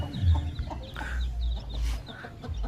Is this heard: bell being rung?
no